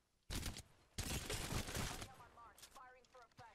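Apex Legends gunfire erupts in two loud, close bursts of rapid automatic shots, a short one then a longer sustained volley, trailing into quieter scattered sounds with voices underneath.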